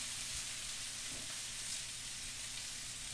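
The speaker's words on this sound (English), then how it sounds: "our peppers and our onions are caramelizing very nicely" Peppers and onions caramelize in a pan with a steady, quiet sizzle and soft crackle throughout, no voices present.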